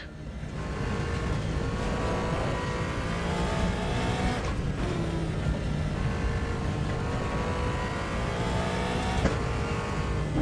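Race car engine in Assetto Corsa EVO at the Nürburgring, a steady loud drone with rising and falling revs and quick shifts between gears, continuous throughout with no talk.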